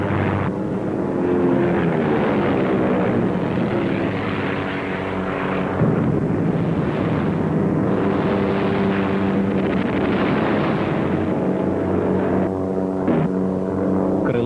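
WWII-era enemy propeller aircraft drone steadily overhead for the whole stretch, a dense, loud engine roar with wavering pitch and wind buffeting, with no voices.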